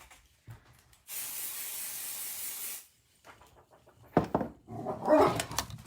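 Pixie spray hisses from a can in one steady burst of just under two seconds, fairly loud and close, with quiet rustling and a dog's brief whimper and yap following.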